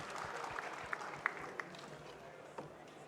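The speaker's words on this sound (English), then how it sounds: "Can I get a round of applause, please?" A gathering marking Nigerian Independence gives faint, distant applause, a thin wash of clapping with a few sharper individual claps that stand out, sounding quiet and somewhat sparse throughout.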